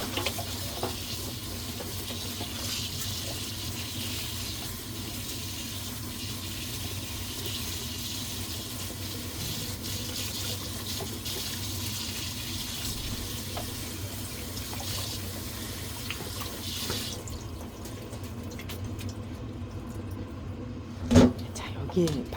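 Tap water runs steadily over garlic scapes being rinsed in a kitchen, a continuous hiss that holds for most of the stretch before cutting off near the end, followed by a brief clatter.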